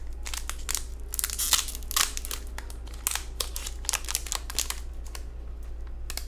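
A trading card pack being torn and crinkled open by hand, close up: a rapid, irregular series of sharp crackling foil crinkles and rips, continuous over a low steady hum, with no talking.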